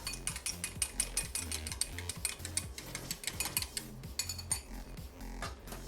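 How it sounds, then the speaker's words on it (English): A spoon whisks rapidly inside a bowl, giving a quick, regular clinking and scraping rhythm of metal against the bowl's sides, close and moderately loud, with no talking. "I'm using a spoon to whisk this."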